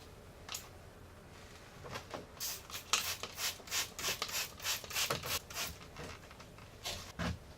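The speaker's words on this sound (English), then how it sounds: "I'm going to clean where this windshield is going to be sitting just a little." Soft, steady rubbing strokes of a cloth wiping clean the windshield mounting area on a Polaris RZR XP1K, a rhythmic series of close, quiet swishes over a faint background hiss.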